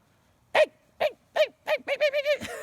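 A voice mimics bird alarm calls: a series of short, sharp chirping bursts, spaced at first and then coming faster and closer together.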